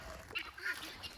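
Guineafowl on a farm give a short burst of harsh, raspy calls, a few quick squawks close by over an outdoor background.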